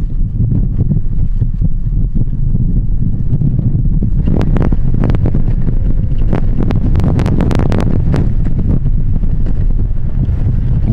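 Strong desert wind roars steadily across the Gobi during a sandstorm, a loud continuous rush with sharper gusts and buffeting bursts building toward the middle.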